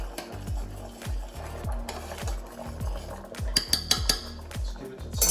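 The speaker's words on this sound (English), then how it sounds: "Give that a little bit of a mix." A spoon rhythmically scrapes and clinks around a bowl, mixing pepper into a sauce, with a steady series of strokes about every half second, close and moderately loud.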